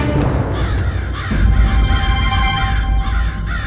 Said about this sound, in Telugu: ఈ కాకులు మన మృత్యు రూపంలో వచ్చాయి